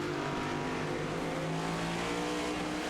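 Race car engine at full throttle during a stock-car series restart, onboard, a steady loud roar with layered harmonics and a slight pitch dip suggesting a gear change.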